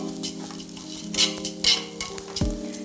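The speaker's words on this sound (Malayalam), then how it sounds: "അരി ഇങ്ങനെ എന്താ പറയുക പൊരിയുന്ന ഒരു സൗണ്ട് വരാം" Rice fries in a pot for biryani, a close low sizzle with bursts of crackling and scraping stirs, plus a faint steady hum underneath.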